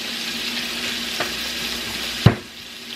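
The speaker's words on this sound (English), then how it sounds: "that oil is getting hot" Hot oil in a pan being heated for French fries, a steady low sizzle with a sharp clatter near the end, fairly close and with no talking.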